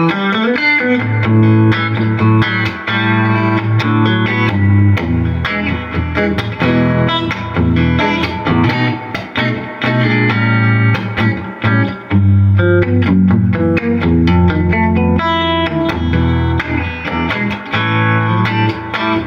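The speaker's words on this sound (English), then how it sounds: "All right, here's the Princeton." An electric guitar plays through a Fender 65 Princeton Reverb Reissue amp, loud and continuous with a driven, slightly distorted tone and reverb tail, sustained chords and notes filling the whole stretch without any voices.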